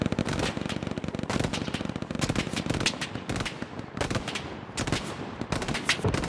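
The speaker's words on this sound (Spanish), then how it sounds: "Está poniendo con la metralladora." Rapid machine gun fire from a video game crackles in dense, continuous bursts with scattered sharper gunshots, loud and sustained throughout with no clear talking over it.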